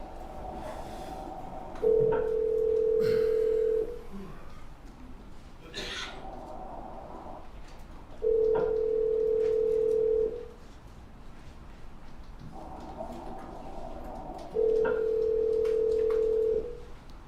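A recorded phone call rings toward voicemail: three evenly spaced ringback tones, each lasting about two seconds, with quiet line noise and faint murmurs between them.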